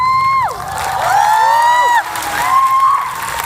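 A studio audience cheers and screams in high, excited bursts, loud and close, rising and falling over a few seconds with overlapping shrieking voices.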